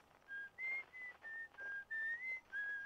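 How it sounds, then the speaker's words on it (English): A clear, tuneful whistled melody in Outer Wilds, picked up through the signal scope, runs as a string of sustained notes with brief gaps, slightly distant and faint, with no talking over it. "Is there someone whistling on that planet?"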